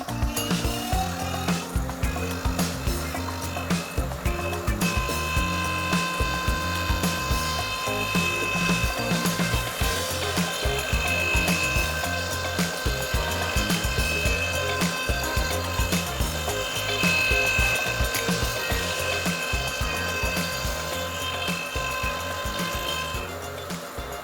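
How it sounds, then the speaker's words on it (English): A wood lathe runs at full speed while a threading tool makes a final light cut of a screw thread on a wooden flask, giving a steady loud mechanical whir with rattling, ratchet-like chatter throughout. "very light cut, so I will only make one click, tighten it again, full speed on the lathe."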